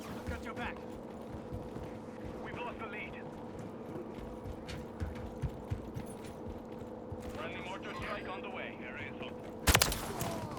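Gunshots in Call of Duty MW3 land as a brief, sharp burst late in the clip over a steady low game hum, with faint mechanical rattles earlier.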